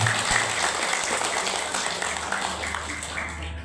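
Applause from an audience at a Hajj-related gathering fills the room steadily, dense and fairly loud at first, then easing slightly toward the end.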